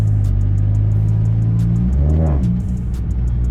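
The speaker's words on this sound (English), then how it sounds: "And hear that exhaust." A Volkswagen Golf GTI's exhaust drones loudly and steadily from inside the moving car, a deep continuous rumble that shifts in pitch as it changes gear, with repeated faint ticks above.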